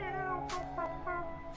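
A human voice imitates a cat, making two short drawn-out meows close to the microphone.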